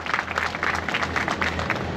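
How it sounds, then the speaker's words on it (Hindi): Audience applause at a banana farming seminar as guests are honoured with flowers on stage, a dense, fairly loud wash of clapping with a low hum underneath and no talk. "एक बार जोरदार तालियां हो जाए।"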